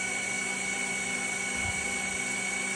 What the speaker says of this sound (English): I thought I might be able to encase the motors a little bit with foam.